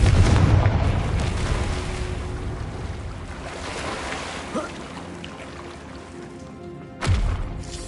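A Confringo fire spell in Hogwarts Legacy bursts with a loud opening blast that rolls off into a rumbling, fading roar, followed by a second sharp impact near the end.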